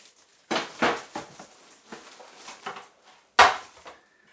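A metal oven tray from a Sage Smart Oven Pro being handled during unboxing, giving a few sharp clanks and rattles with quieter scrapes and a final loud knock, close up and without talk.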